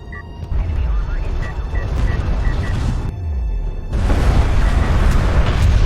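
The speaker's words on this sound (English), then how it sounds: "a missile ship barrage gonna take out all those units as they were really clumped up there" In the video game Homeworld: Deserts of Kharak, a missile ship barrage sets off a loud, dense run of deep booms and rumbling blasts that roll together with mechanical battle noise and keep building toward the end.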